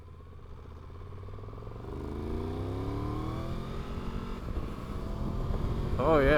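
A 2023 Triumph Tiger 1200 GT Pro adventure motorcycle accelerating through quick shift-assist gear changes, engine tone rising in steps with each smooth upshift, wind noise steadily building.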